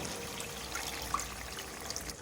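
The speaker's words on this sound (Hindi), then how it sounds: "थोड़ा सा पानी डालूंगी इसमें।" A small splash of water trickles into egg korma masala in a cooking pot, a soft, close pouring sound lasting a couple of seconds with no talking.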